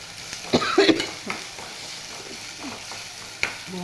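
Egg curry fries in a pan while a spoon stirs it, soft sizzling under a few sharp scraping clinks of utensil against metal, close and fairly quiet.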